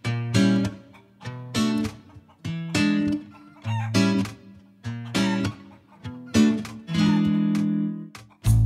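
Chickens cluck loudly and close by in a series of repeated bursts, with a longer drawn-out squawk near the end.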